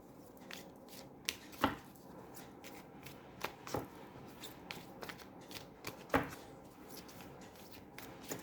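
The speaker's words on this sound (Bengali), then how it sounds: "আমি আরেকটি ডেক থেকে দুটি কার্ড নিয়ে দেখব" A deck of tarot cards is shuffled by hand up close, with repeated soft riffles, flicks and taps of the cards in an irregular rhythm. The sound is quiet and no one talks.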